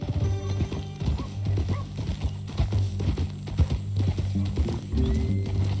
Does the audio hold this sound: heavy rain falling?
no